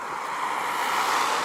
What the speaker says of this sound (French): Encore un peu beaucoup de vent aujourd'hui, désolé pour le bruit.